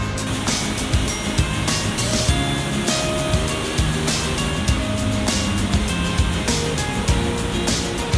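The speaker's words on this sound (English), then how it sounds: "the waterfall is right there and it's so loud and it's misty." A loud waterfall on the Mist Trail in Yosemite, heard up close as a dense, continuous roar of rushing water and spray with no voices, with occasional bursts.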